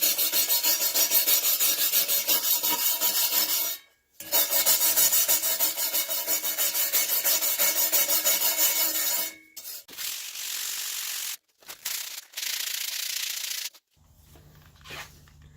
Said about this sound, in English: Next I need to clean the gunk off of this so we get a better adhesion to the metal.